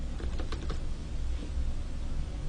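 Fingers tap out an organization name on a computer keyboard, a short quick run of clicking keystrokes, fairly close, over a low room hum with no talking.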